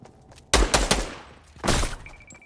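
Gunfire in Fortnite Battle Royale: a close, sharp burst of several rapid shots, a short pause, then another loud shot or quick burst, with quiet game ambience between.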